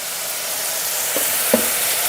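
Tomatoes fry with salt in a pan, a soft steady sizzle close by, with two brief scraping stirs of a spoon toward the end; no talking.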